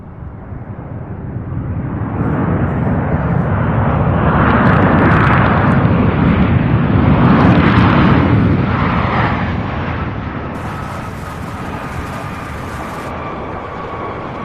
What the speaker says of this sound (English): We have an American Airlines 737 arriving from Dallas, Fort Worth.